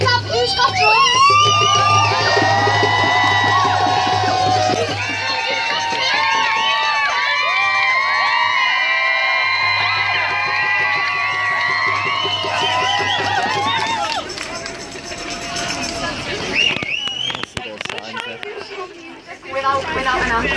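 A live audience makes loud, sustained crowd noise on request, with shouting, cheering and chatter forming a dense wash for most of the stretch before thinning toward the end.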